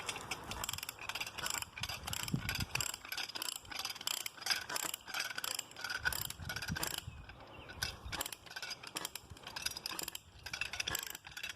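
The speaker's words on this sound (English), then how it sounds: "we'll just go ahead and try and winch this up" A winch ratchets steadily while pulling an oak tree over on a ridgetop, with a continuous rapid clicking and grinding, close and fairly quiet, with no talking.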